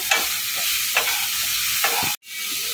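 Chicken roll filling scraped around a frying pan with a spatula, three distinct stirring strokes over a steady close sizzle that cuts off abruptly near the end.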